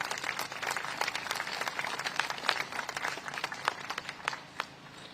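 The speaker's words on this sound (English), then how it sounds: "and they deserve a huge round of applause." Crowd applause at a Commonwealth Day ceremony at the Commonwealth Memorial Gates, a dense, steady patter of many hands clapping that holds for several seconds at moderate loudness with no talk.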